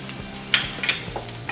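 Garlic sizzles in two tablespoons of hot oil in a kadhai while chili chicken sauce is being made, a steady close frying hiss with brief stirring scrapes and no talking.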